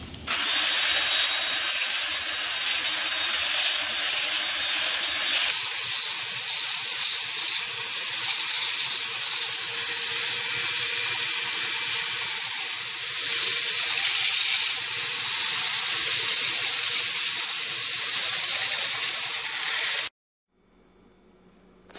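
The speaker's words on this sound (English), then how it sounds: "So now I'm actually going to mix it for 5 minutes as the manufacturer recommended." A power drill with a paddle mixing Ultraflex thinset mortar runs loud and steady for about twenty seconds, its whine shifting slightly as the load changes, then stops abruptly.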